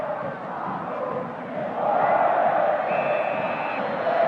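Stadium crowd roaring after a Boca Juniors goal against River Plate at a 1988 Superclásico in Argentina, a dense, sustained mass of cheering and chanting that swells louder midway and holds steady to the end.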